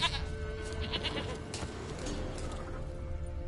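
A goat in The Witcher game bleats in a short wavering call at the start, fairly close, then fades into a low ambient background.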